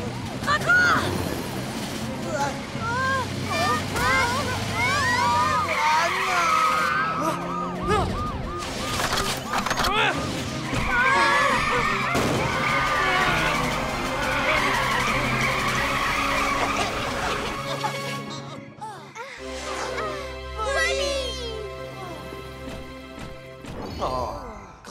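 Cartoon car driving fast at night, with long tire-skid squeals and engine noise that run almost continuously under excited animated voices talking, ending in a brief quieter stretch.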